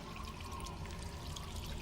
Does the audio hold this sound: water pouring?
yes